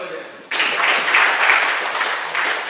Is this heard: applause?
yes